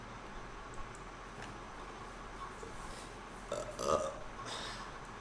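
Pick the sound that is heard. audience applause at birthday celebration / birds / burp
burp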